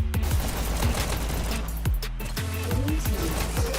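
Rapid SMG fire in a VR e-sports shooter, dense overlapping bursts of shots with sharp electronic pings and zips layered through a busy, loud game mix.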